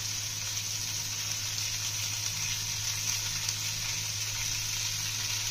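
Fish frying in hot oil for chachara, a steady bright sizzle that holds at an even level throughout, close and continuous with no talking.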